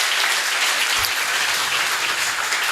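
Audience applause for Ras Silas at an outdoor bench unveiling honouring Harry Belafonte, a dense steady clapping from a crowd close by with no voices over it.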